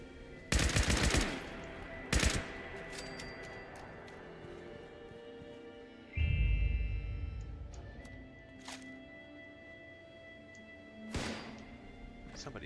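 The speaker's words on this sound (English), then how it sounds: "Somebody's still shooting at me." Gunfire in the online game Fallout 76, a few sharp bursts near the start and short isolated shots later, with quieter ambient game sound between them.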